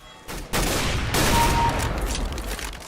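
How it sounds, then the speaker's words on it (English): Gunfire from the overpowered 'op' rifle in a multiplayer video game: a loud, close boom at the start, then a second heavy blast that rolls into a sustained rumbling roar before fading slightly. "Known to players for its terrifying and distinctive report, the op puts the boom back in boom headshot."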